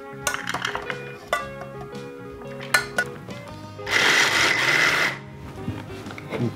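A blender grinds dry lentils in one short, loud whirring burst of about a second, set among clinks and rubbing of kitchen utensils.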